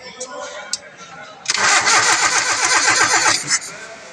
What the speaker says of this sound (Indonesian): masukkan lalu di starter selama 3 detik